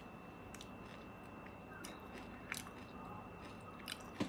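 Bites into a Dubai pistachio kunafa chocolate bar with a thin chocolate shell and crunchy filling, giving faint, close, scattered crunches and soft chewing over quiet background with a few sharper snaps.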